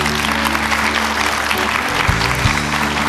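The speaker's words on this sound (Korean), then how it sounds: "힘찬 박수로 맞아주시죠." Audience applause welcoming a mythology scholar onto a TV lecture stage, a steady wash of clapping filling the full few seconds at even loudness.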